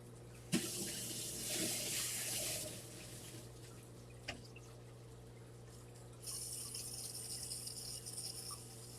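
A tap runs water into a sink, faint and steady, with a sharp knock near the start and another midway; the flow quiets, then a brighter rush resumes in the final few seconds.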